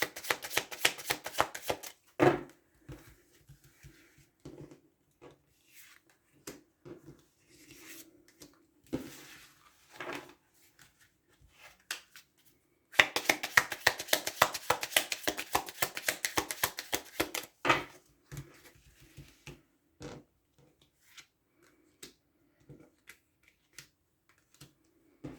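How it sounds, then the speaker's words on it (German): Fortune-telling cards are laid out on a table, making bursts of quick, crisp taps and slaps. Quieter pauses separate the bursts, the sound is close but soft, and no one talks. "Das Auslegen dauert jetzt einen Moment, aber es gehört eben zum Kartenlegen dazu."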